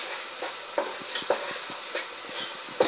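Spices stirred into food frying in a pan while making loaded fries, with a steady soft sizzle and a few sharp scraping clinks of the spoon against the pan.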